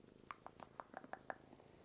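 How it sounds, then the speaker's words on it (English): A pet cat purrs softly up close while being brushed, a quiet run of rhythmic, pulsing breaths that barely rise above the stillness. "I hope my mic is picking up her purring."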